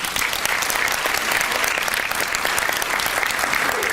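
Sustained audience applause at a sponsors' luncheon, a dense, steady wash of many hands clapping throughout, fairly loud and close with no break.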